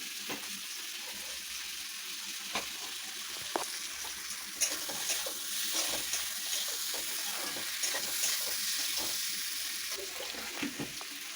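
Potato and pointed gourd curry sautéing in a pan: a continuous soft sizzle with occasional clicks and stirring scrapes, fairly quiet and steady, with no one talking.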